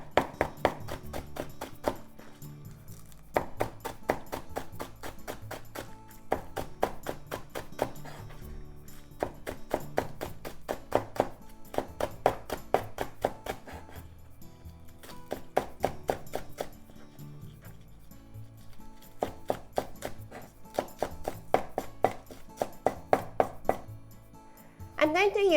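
A knife slices a sweet potato thinly on a cutting board, producing steady runs of quick, crisp chopping taps in bursts with short pauses between, fairly close and moderately loud, with no talking.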